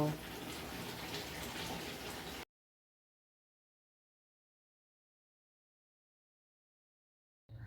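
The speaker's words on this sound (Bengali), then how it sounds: "আমি এখনই জল ঢালছি" Water is poured into a pot while chana dal is being cooked, a brief gushing splash lasting about two seconds, then silence and a short return of the sound at the very end.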